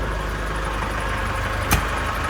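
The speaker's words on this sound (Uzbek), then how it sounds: "Mana motori ovozini qarang, mana stabilniy" A Lugong LM916 mini loader's diesel engine idles steadily nearby, a constant low rumble with one brief knock partway through.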